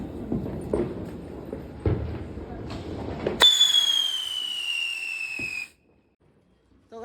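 Firecrackers burst during Diwali night celebrations near a home. A rapid string of crackling pops is followed by a long, loud, falling whistle that ends abruptly.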